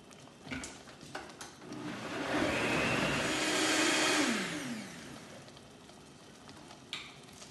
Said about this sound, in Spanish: Y vamos nosotros de nuevo a moler nuestro mole.